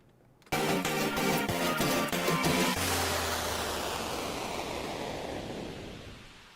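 Music from a played song cuts into a wash of loud white noise that swells, holds, then slowly fades out, alone with no voices.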